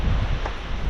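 Strong wind roars and buffets against the microphone in a dense, rumbling rush with no pauses, during heavy rain.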